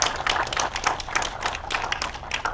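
An audience at a live variety broadcast gives an introduced performer a steady round of applause. Dense, even clapping runs for a few seconds with only faint voices underneath.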